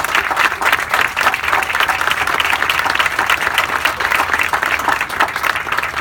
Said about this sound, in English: the Miami Marlins and their CEO Derek Jeter a great hand and applause, please.